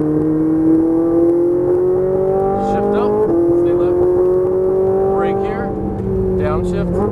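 Ferrari 458 Italia accelerating around a race track, a steady high-pitched engine note climbing through gears with brief shift dips, heard from inside the car while a voice coaches throughout.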